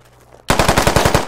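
Rapid automatic gunfire in the Squad video game, a loud burst of about eight to ten evenly spaced shots that starts abruptly after a quiet moment and continues without talk.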